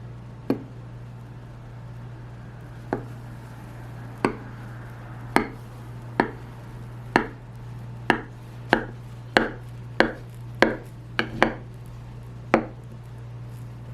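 Knife chopping through an eggless no-bake tiramisu, heard as a series of crisp cuts against a board, sparse at first then speeding into a quicker run of about a dozen close strokes, over a steady low background hum.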